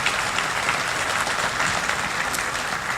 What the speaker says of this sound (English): let's give Kate and her staff a round of applause too